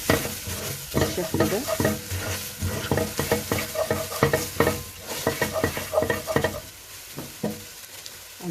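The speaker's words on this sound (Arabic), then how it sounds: "هنقلب البهارات مع البصل والثوم" Spices, cumin and pepper among them, get stirred through onion and garlic in a hot pan, sizzling loudly under rapid scraping strokes of a spoon, with a brief spoken remark near the end.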